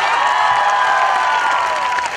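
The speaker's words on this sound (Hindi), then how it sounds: "इनके लिए एक बार ताली बजाई जाए" An audience at a speech event in Rajasthan claps and cheers together. The applause is dense and sustained, loud and close, and carries a faint murmur of crowd voices throughout.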